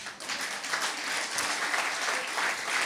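Church congregation applauding during an online worship service, a dense, steady wash of many hands clapping together at close range, sustained without a break.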